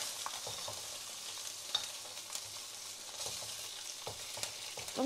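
A fish head with ginger fries in a pan, giving a steady, fairly quiet sizzle broken by scattered clicks and scrapes of stirring.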